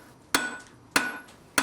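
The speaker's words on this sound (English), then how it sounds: "position the metal directly in the center of the anvil and to hit it squarely with the face of the hammer" A blacksmith's hammer strikes a hot metal bar squarely on the center of an anvil, three sharp, ringing blows spaced about a second apart, each with a bright metallic clang that decays quickly.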